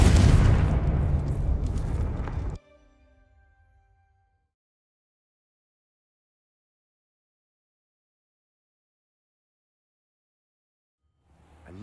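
A Confringo blasting spell goes off in Hogwarts Legacy, a single loud booming explosion that crashes at once and rings out over about two and a half seconds before cutting to near silence.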